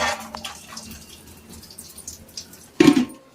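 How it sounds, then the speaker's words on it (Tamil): Water draining off boiled gongura leaves in a strainer, a faint trickling and dripping, then a louder sudden splash near the end. "தண்ணியெல்லாம் வடிச்சிட்டு அந்த கீரையை மட்டும் வச்சுக்கணும்."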